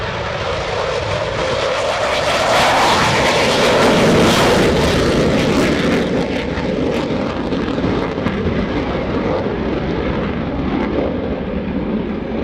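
An F/A-18F Super Hornet jet at a 2018 naval air station airshow roars loud and continuous, a broad rushing engine blast that swells slightly and holds steady for the whole stretch.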